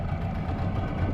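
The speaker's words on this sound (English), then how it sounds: "Alright, just idling, clicking into the gear into neutral." A small outboard motor on a sailing dinghy idles in neutral with a steady, low rumbling drone, close and continuous throughout, with no talking.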